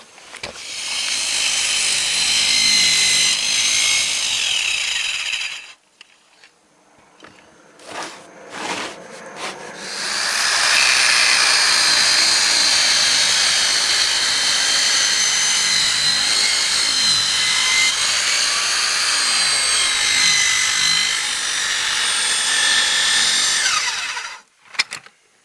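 A power saw bites into a natural wood pole in two long stretches of harsh, buzzing cutting, separated by a quiet gap with brief knocks and handling noises, then ending in a sudden stop.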